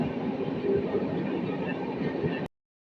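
A passenger train runs on rails in India with a steady, close rolling rumble and rattle that continues evenly, then cuts off abruptly.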